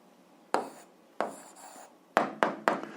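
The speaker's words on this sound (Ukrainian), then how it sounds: "записуємо відповідь, пишемо відповідь" Pen or chalk writing out an algebra answer, heard as a few separate scratchy strokes, one long stroke followed by a burst of three quick ones, close and fairly quiet.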